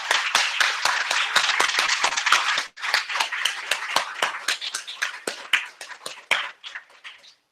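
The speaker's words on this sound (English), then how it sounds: "Let's have another round of applause for Jackson Hollingsworth." An audience at the USM National Convention in 2017 applauds for Jackson Hollingsworth, a dense run of many hand claps that carries steadily for several seconds, dips briefly, then continues before thinning toward the end.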